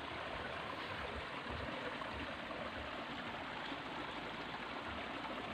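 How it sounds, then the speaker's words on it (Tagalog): A small stream flows steadily nearby with a continuous, broadband rushing and burbling that stays even and fairly quiet the whole time, and no one speaks. "Ito yung sapa."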